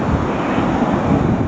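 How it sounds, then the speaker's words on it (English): A Spirit Airlines A320 airliner in old livery, inbound from Orlando, roars loudly and steadily overhead with a dense, sustained engine rush. "It's an old livery A320 inbound from Orlando,"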